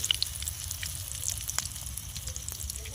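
Fish fingers frying in hot oil, a quiet crackling sizzle with scattered sharp pops and spits over a low steady bubbling.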